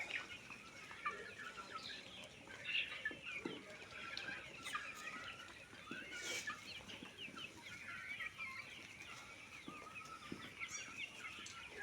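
Kadaknath chickens weighing around 1.5 to 1.75 kilograms cluck and chatter continuously in a farm pen, with scattered wing flaps and scratching, fairly faint and steady throughout.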